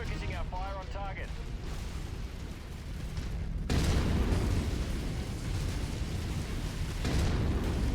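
Mech weapons fire and explosions from MechWarrior 5 rumble loudly and continuously, with heavier blasts landing midway and near the end; a voice speaks briefly at the start.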